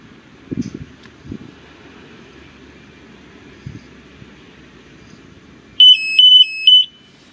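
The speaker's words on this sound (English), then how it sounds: "An alarm sounds again and now your joystick is calibrated." A quiet room with a few soft knocks, then a Genie Z45 XC lift's calibration alarm sounds three steady high-pitched electronic beeps near the end.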